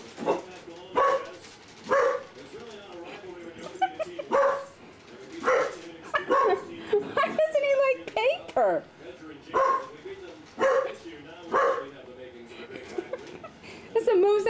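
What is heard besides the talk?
puppy barking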